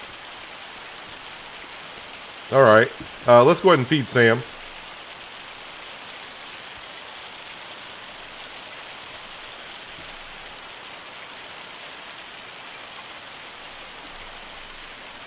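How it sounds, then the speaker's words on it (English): Steady rain falls in the Farming Simulator 25 game world, a constant even hiss of raindrops on surfaces, with someone briefly speaking over it early on. "Okay, now it sounds like rain."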